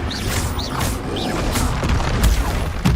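A Confringo blasting spell exploding in the fantasy combat game Dark and Darker, with loud repeated booms, whooshes and chirping magical tones layered over a dense, rumbling battle din.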